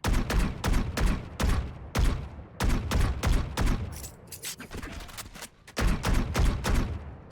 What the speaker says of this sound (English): So the gunshots are a bit muffled and smoother and has like a laser touch to it.